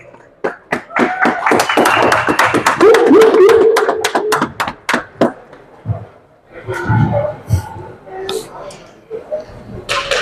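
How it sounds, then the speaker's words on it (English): Scattered, distinct hand claps from a small crowd at a playoff wild card football game ring out for a few seconds before fading into an announcer's voice. "All right, can I get a round of applause?"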